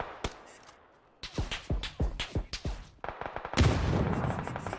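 Long-range gunfire in PUBG on PC: a burst of sharp, close shots in quick succession, some spaced and some rapid, ending in a dense volley of fire with no talk over it.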